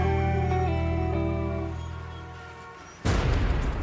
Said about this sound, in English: They'll drop a bomb from a drone, then an explosion.